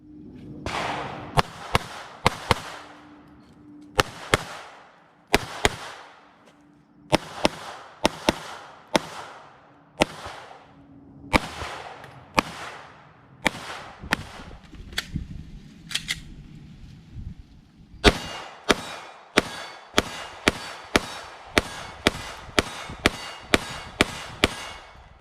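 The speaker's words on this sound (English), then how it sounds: "Let's head to the range and shoot this gun." Sharp, loud pistol shots from a Sig Sauer handgun fitted with a Romeo 1 Pro optic crack at an outdoor shooting range, fired in quick strings and bursts with short pauses between groups, each report followed by a brief ring.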